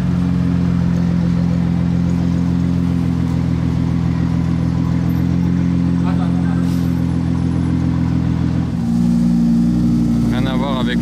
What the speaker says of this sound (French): Et la GTR qui se gare, elle a un échappement Accra.